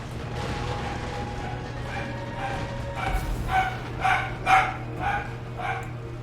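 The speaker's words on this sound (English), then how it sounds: "There goes the dog again." A dog in a Total War: Warhammer 2 battle barks several times in quick succession, fairly distinct over a low steady game hum and distant battle noise.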